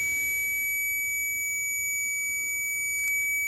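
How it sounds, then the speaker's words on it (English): A steady, continuous high-pitched electronic tone from a continuity tester checking a car's hood ajar switch sounds throughout, unbroken and fairly clear above faint room noise. "so here is the continuity test. As you can see, it's beeping"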